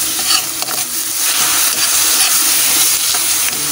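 Sardines sizzle and fry loudly in a pan with soy sauce, a dense continuous hiss with stirring scrapes, close and alone.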